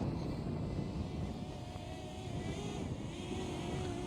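A DJI Flip drone flies outdoors on a windy day, its thin motor whine faint and rising slightly in pitch beneath steady, heavy wind rumble against the microphone.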